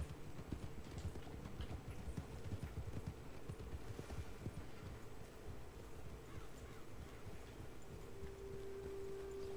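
Horse hooves in Red Dead Redemption 2 clip-clop along a path in a steady walking rhythm, moderately close, over a low wind-like ambient hum.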